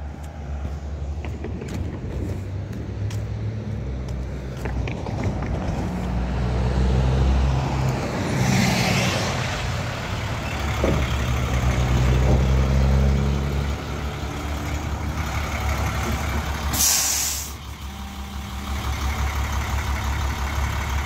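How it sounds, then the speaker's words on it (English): An HSU bus drives past on a road in Blue Lake, California, a low engine rumble building and fading over many seconds amid steady traffic noise, with a brief hiss of passing vehicles. "Here come the HSU bus."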